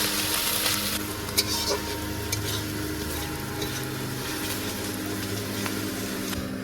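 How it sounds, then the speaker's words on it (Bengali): Spice masala frying in a pan during outdoor night cooking beside the Sundarbans river, a steady sizzle with stirring scrapes running throughout, close and continuous. "সব মশলা দিয়ে দিলাম, একটু কষিয়ে দিই"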